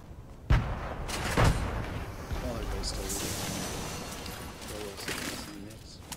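Grenade explosions in a video game, a couple of sharp booms near the start followed by a rumbling, crackling wash of gunfire and blasts, with a voice talking over it.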